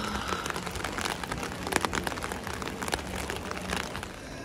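Rain patters onto a street in Florence, Italy, a steady crackling hiss of drops with scattered sharper taps, fairly close and with no voices.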